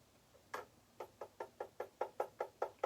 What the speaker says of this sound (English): Police knocking at your door.